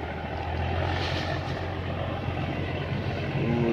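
A fishing boat's engine runs out at sea on a morning trip off Chendering, giving a steady, low, droning rumble with no talk over it.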